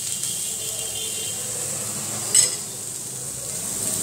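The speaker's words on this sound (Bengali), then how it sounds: "একটু নেড়ে নিচ্ছি" Food sizzles gently in a small amount of ghee for a Bengali white curry, a continuous close hiss with one brief clink of a utensil stirring in the pan midway.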